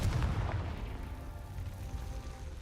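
A Hogwarts Legacy Confringo blast spell explodes in a deep, muffled boom at the start, followed by a low, rumbling tail that lingers throughout.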